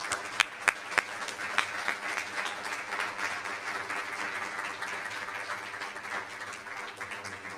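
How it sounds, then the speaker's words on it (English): A room at a school district board meeting breaks into a round of applause for employees of the year, dense overlapping clapping that starts with a few sharp claps and continues steadily at moderate distance. "let's have one more round of applause"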